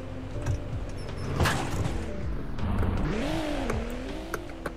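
Cars driving around a Roblox Greenville town map, engines revving and accelerating up and down in pitch with a tire squeal, steady and fairly close with no talk over them.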